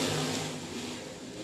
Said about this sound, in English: Green flag. We're underway for heat race number 3.